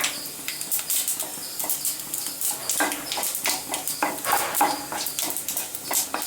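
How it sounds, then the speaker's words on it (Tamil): Whole spices, bay leaf, cinnamon, cloves and fennel, crackle and sizzle in hot oil in a pan, with a rhythmic scraping of a stirring spoon over continuous frying hiss. "எண்ணெய் சூடானதும் இதில் ஒரு பிரியாணி இலை, பட்டை, கிராம்பு, சோம்பு எல்லாத்தையும் இதில் போட்டுக்கலாம்."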